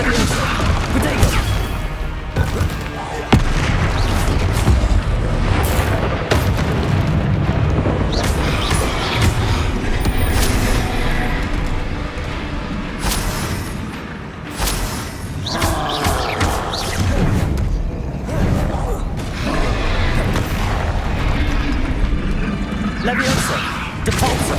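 Spell blasts from the Hogwarts Legacy video game crash and boom in rapid succession through a long, busy combat stretch, dense with impacts and whooshes.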